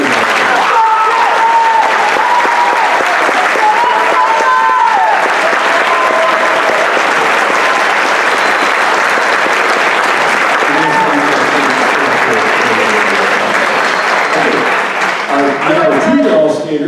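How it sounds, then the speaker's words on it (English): Sustained audience applause at a high school spring band concert, loud and steady for the full stretch, with some cheering and voices mixed into the crowd. "Let's have a round of applause for these first-year."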